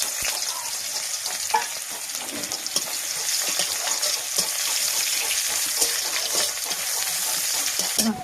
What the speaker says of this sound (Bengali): এটা আমার পেঁয়াজটা ভাজা হয়ে গেছে